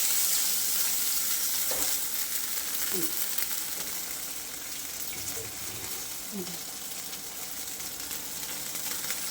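Ground masala paste, for Karnataka-style vegetable sagu, frying in a pan gives a steady close sizzle with a few soft scrapes or stirs scattered through.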